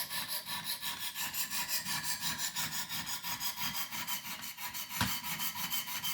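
Steady back-and-forth scrubbing of a blade edge under firm pressure on 100 grit abrasive to raise a burr, a rhythmic gritty rasp of about twelve even strokes, close and loud, with one sharper knock near the end.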